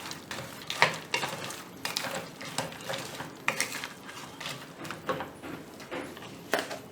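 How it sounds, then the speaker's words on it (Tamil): Wheat-flour biscuit pieces stirred with a utensil in a pan of sugar syrup over a low flame, with steady scraping and clinking strokes repeating throughout, close and moderately loud, and no voices. "பிஸ்கட்டை நல்லா எல்லா இடத்துலையும் சுகர் பரவுற மாதிரி நல்லா பரட்டி விட்டுக்கிறேன்."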